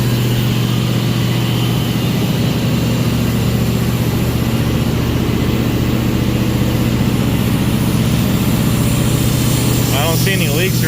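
A swapped-in engine idles in a 1951 Mercury, a loud, continuous low rumble with steady throb filling the whole stretch, with a brief rattle near the end.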